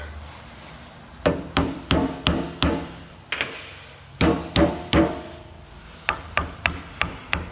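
A small hammer taps sharply in short bursts of two to four strikes, with brief pauses between groups, close and crisp.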